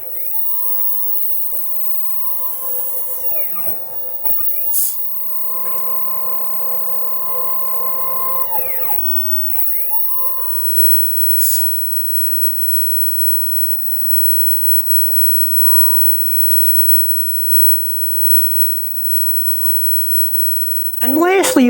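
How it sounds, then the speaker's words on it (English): A Next Wave Shark CNC spindle moves along its Z and X axes, with stepper motors whining up and down in repeated short sweeps and rising and falling pitched tones, broken by brief clicks and a louder burst at the end. "you want to move the spindle along both the Z and the X axis in order to"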